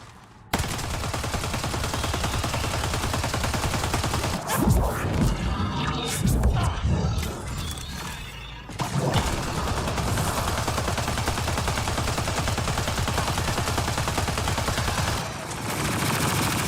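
Sustained gunfire in the video game Mass Effect: Andromeda, with loud continuous automatic shooting that runs almost throughout and briefly breaks into a jumble of impacts midway.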